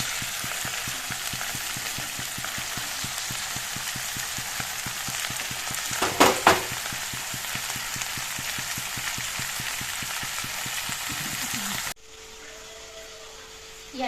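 Chicken pieces frying in a coloured spice paste, a dense, steady sizzle crackling like rain for about twelve seconds, with a brief louder stirring clatter midway before it cuts to quiet.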